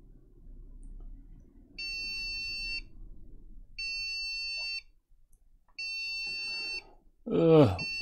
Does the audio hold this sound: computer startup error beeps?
yes